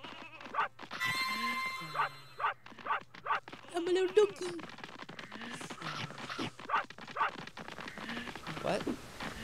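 A dog yips and barks in short repeated bursts amid sound effects from the N64 game Space Station: Silicon Valley, with a person talking over much of it.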